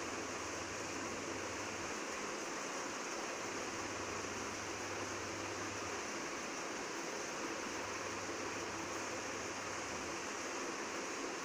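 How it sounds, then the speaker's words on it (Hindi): Water runs continuously as bitter gourds (karela) are rinsed under plain water, a steady close rush with a faint low hum underneath and occasional soft handling knocks. "हम एक एक करेले को इसी तरह से धोकर अलग प्लेट में रखते रहेंगे।"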